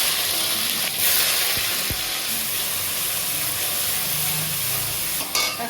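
Onion paste hitting hot oil with whole garam masala and cumin, a steady broadband sizzle throughout with brief stirring bursts, close and fairly loud, no talking.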